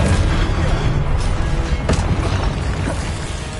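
Confringo spell blasts in Hogwarts Legacy, dense rumbling bursts and crashes in quick succession, loud and close throughout with no clear voice.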